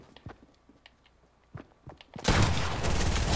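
Video game gunfire erupts as a sudden loud burst of rapid shots after a stretch of quiet clicks and small thumps, continuing densely to the end; no speech.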